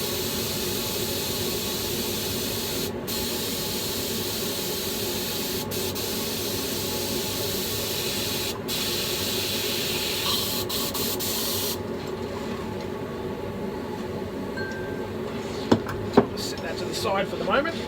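An airbrush spray gun is sprayed to clean it out after painting a brown trout lure, giving a continuous close hiss that runs steadily for most of the clip and then breaks off near the end.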